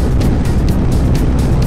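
A car rushes past on a rainy road, heard from a moving motorbike as a loud, steady wash of engine and tyre noise with wet road hiss throughout.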